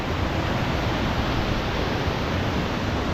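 Waterfalls near Neuschwanstein Castle produce a loud, continuous broadband rush of falling water with no breaks.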